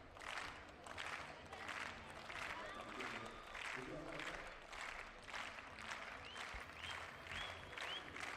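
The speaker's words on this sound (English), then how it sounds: "So decent applause now going for Peter Magato" A stadium crowd at an athletics meet in Jerusalem applauds in steady, distant rhythmic clapping that continues throughout under a commentator's voice.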